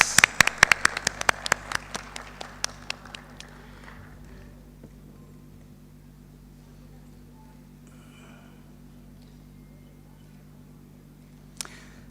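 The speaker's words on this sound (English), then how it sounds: "Let's give him a round of applause." Brisk clapping from a festival stage audience at Future Fest 2024 starts loud and thins out over about three seconds, leaving a quiet room with a low hum and one last sharp clap near the end.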